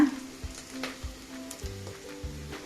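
Tomatoes hit browned onions frying in a pan, a close crackling sizzle with soft stirring taps at a loose rhythm, no talking.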